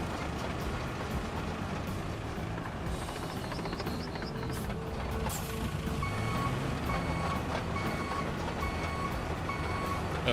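Heavy equipment backing up in the construction game RoadCraft, its reversing alarm beeping in a steady repeating rhythm over a continuous engine rumble and mechanical clatter, fairly close and with no talk.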